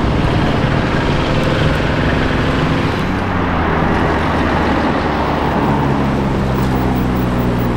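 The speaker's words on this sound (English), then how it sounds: "Oh, okay, a puro sangue and an SF90 of some kind." A Ferrari Purosangue and a Ferrari SF90 supercar pass by on the road, a loud, steady engine drone and tyre roar with rising and falling tones as the cars go by, with no talking.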